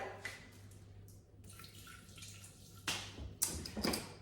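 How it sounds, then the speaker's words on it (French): Mineral water, 100 g of it, pours into a bowl for carnival beignet batter, a thin trickling splash that comes in short separate bursts, quiet and close, with small drips between them. "On va commencer à mettre 100 g d'eau minérale."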